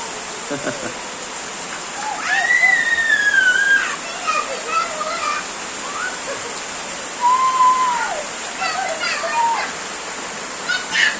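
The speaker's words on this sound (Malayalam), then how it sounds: "നല്ല മഴ കേട്ടോ. സൂപ്പർ വേനൽ മഴ" Heavy summer rain pours steadily in Nilambur, Kerala, making a constant broad hiss throughout, while children's voices and calls rise over it now and then.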